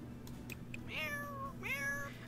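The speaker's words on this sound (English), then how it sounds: "That's kind of a scratchier meow." Two drawn-out, scratchy cat meows from The Sims 4 Cats & Dogs video game, each rising then sliding down in pitch, heard clearly with no talk over them.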